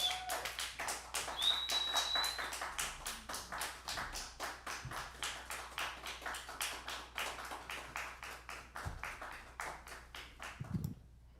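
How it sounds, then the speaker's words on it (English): An audience applauds at a Jazz for Peace event, with steady rhythmic claps that carry on for several seconds and then fade out, with a brief shuffle at the end. "Let's have a round of applause"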